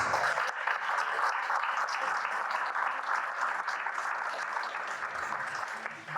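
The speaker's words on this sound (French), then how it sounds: "On peut l'applaudir et le remercier." At a fundraising evening, an audience applauds Albert with steady, sustained clapping that fills the room without pause.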